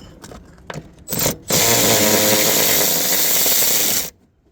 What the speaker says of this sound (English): Got a shorter one with a electrical ratchet.